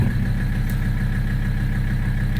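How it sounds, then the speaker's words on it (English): A Mercedes-Benz 300TD diesel engine runs steadily at high idle, a loud, even low rumble with a constant diesel clatter throughout and no pauses. "So we'll put it back to high idle and let you see"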